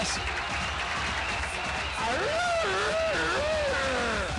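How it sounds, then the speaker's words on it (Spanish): Studio audience clapping for a performing duo on a TV show, a continuous wash of applause with a voice talking loudly over it in the second half. "¡Fuerte el aplauso, che!"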